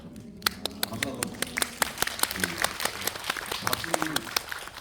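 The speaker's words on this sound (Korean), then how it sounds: "여기 계신 감독님 공조와 수사반장을 연출하신 김성훈 감독님 박수 한번" An audience in a Seoul CGV cinema hall applauds director Kim Seong-hun at a film Q&A, steady sharp clapping from many hands at moderate distance, lasting the whole stretch.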